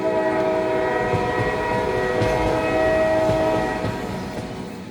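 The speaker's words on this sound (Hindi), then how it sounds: "और ट्रेन चल पड़ी" A train starting to move as an audio drama sound effect, loud and steady, with a sustained horn-like tonal hum over a low rumble and faint rail clatter, alone without voices.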